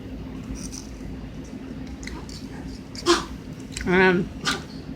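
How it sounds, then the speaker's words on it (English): A dog makes brief whimpering, sneezy vocal noises indoors during a Japanese candy taste test, with a short sharp sound near the middle and a longer whine toward the end over low room hum. "Sorry about the dog making noise."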